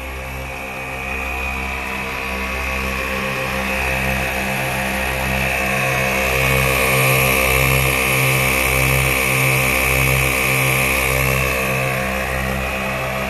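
An ARB twin air compressor on a 4WD Sprinter van inflates 34-inch tires two at a time, a loud steady motor drone with a pulsing hum that holds without a break throughout, close by, with no talking.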